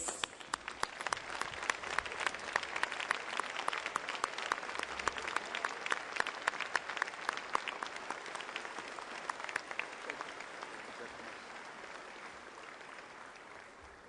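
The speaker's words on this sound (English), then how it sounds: "receive our President of the Republic of South Africa, President Zuma, with a warm round of applause, please." A large audience at the CITES CoP17 conference opening ceremony applauds President Zuma of South Africa with dense, sustained clapping that fills the hall and slowly fades toward the end.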